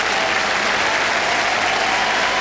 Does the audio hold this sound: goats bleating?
no